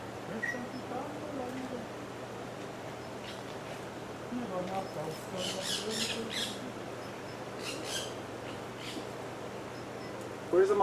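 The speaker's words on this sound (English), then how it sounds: "Where is the macaw?" A military macaw in a botanical garden in Puerto Vallarta lets out several loud, harsh squawks in short bursts, partly under people talking nearby, with quieter rustling and background noise between calls.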